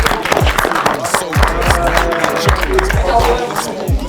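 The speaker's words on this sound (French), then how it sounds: "On applaudit, les gars," A crowd applauds the winner of an MMA fight at an amateur fight event, with a dense, loud wash of clapping and a few thumps running steadily throughout.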